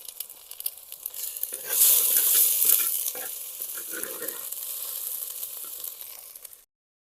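Ingredients for chicken haleem frying and being stirred in a hot pan, with green chillies and mint among them: a steady close sizzle with scraping stir strokes that swells midway, then fades and stops near the end.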